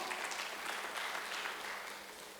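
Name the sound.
congregation applause in church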